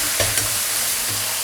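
Stir-frying in a wok after light and dark soy sauce go in, giving a steady close sizzle with a couple of brief scraping stirs.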